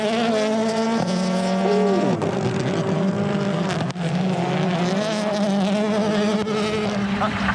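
A rally car engine at Safari Rally Kenya 2022 revs hard and near, with a buzzing, insect-like whine that rises and drops through gear changes and a sharp upshift pop around two seconds in, loud and continuous throughout.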